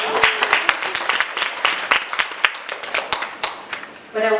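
Audience applause at a personal branding talk: a burst of scattered hand clapping from a modest crowd, steady for about four seconds and tapering, before a voice briefly starts up at the end.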